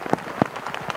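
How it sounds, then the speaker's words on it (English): Rain falls steadily outdoors on a dull, cloudy autumn day in Dalsland, Sweden, a soft broadband patter with a few sharper drop hits over about a second. "It's raining, it's cloudy, it's relatively dull."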